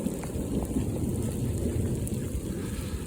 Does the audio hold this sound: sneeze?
no